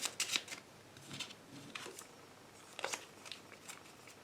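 Tarot cards being shuffled for a reading, a few close, crisp riffling bursts separated by short pauses in a quiet room.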